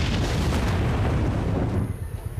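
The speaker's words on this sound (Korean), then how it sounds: "예상치 못한 자살 폭탄 테러가 일어납니다" A suicide bomb explodes in a film scene set during a border chase between Mexico and the United States, giving a loud, dense, rumbling blast that fills the whole moment and then thins out into a fading roar.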